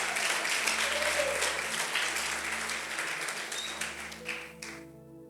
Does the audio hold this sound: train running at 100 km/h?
no